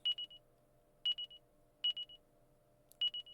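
Short electronic beep chimes from the Dragon Quest IV video game, four bursts of rapid repeated tones spaced about a second apart, clear over a quiet low background hum.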